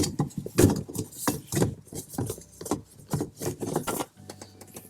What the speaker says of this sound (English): remove that dust cap